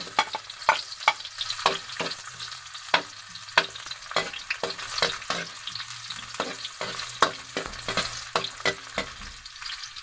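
Garlic and onion fry in a hot wok with oil, a steady close sizzle punctuated by frequent sharp spatula scrapes and clanks in an uneven stirring rhythm, with no talking.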